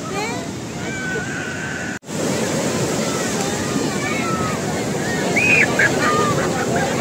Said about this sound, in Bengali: দেখেন কত পরিশ্রম করে এই ঢেউটাকে পার করে যেতে হয় ওদের নদীর মাঝে, সমুদ্রের মাঝখানে।